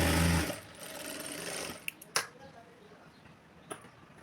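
A sewing machine double-stitches the front part of a blouse in one fast whirring run that stops after about half a second, followed by quiet handling and a few sharp clicks.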